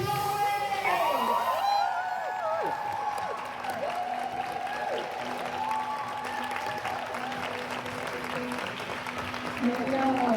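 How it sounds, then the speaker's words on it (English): Audience applause and cheering at a convention panel during Germany's Film & Comic Con in Dortmund, a steady wash of clapping that carries on with voices and whoops mixed through it. "I need a big round of applause for Rebecca, Melder, and Josh Lloyd."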